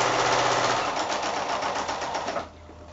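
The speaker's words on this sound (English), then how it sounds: "just sew all the way down through all layers" A sewing machine stitches a quarter-inch seam down through all the layers of a prairie point pinwheel quilt block. Its rapid, steady whirring runs close and loud for over two seconds, then stops abruptly, leaving quiet.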